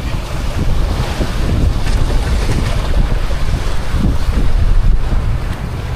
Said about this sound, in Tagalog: Medyo may alon kunti.